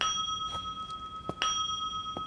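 Faint bell chimes in the horror game Withering Rooms: a few brief metallic dings, spaced irregularly over a steady tonal drone, with no talking.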